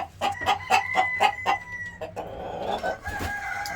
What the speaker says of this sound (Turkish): bu horozu yakından göstermek istiyorum